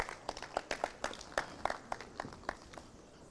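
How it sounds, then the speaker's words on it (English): Sparse, faint clapping from a small conference audience after a speaker's talk, a handful of separate claps spread irregularly rather than a full ovation, distant and thin with room noise underneath. "can we give him a round of applause?"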